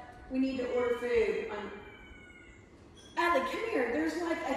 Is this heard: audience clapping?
no